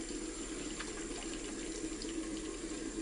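Running tap water splashes steadily into a sink while hands wash with homemade 100% coconut oil soap, a faint, continuous hiss and patter with no speech.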